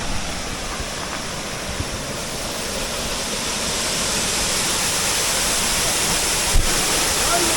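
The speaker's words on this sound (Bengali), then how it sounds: "ঝর্ণাটা দেখো," Chota Mangwa waterfall roars close by as a dense, steady rush of falling water that fills the whole stretch without a break.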